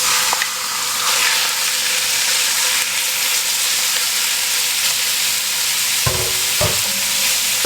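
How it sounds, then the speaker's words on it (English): Beef cubes fry in a hot pan with a loud, steady sizzle that fills the moment, a couple of clanks of stirring near the end. "Now we're going to add in our beef cubes."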